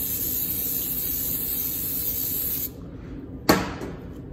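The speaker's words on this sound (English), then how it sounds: "I'm gonna use some cooking spray." Cooking spray hisses from a can onto bread dough in a steady, loud burst lasting a couple of seconds, then stops, followed by one short sharp spray and a few faint handling sounds.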